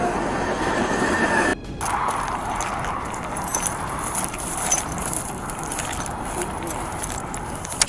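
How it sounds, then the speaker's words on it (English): A train rumbles past close by after striking a police patrol car on the tracks, with rattling wheels and a dense, sustained roar, briefly broken by a sudden drop, with faint voices mixed in. "Patrol car was just hit by a train."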